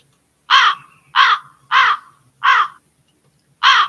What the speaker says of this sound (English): the Murder of Crows is telling me that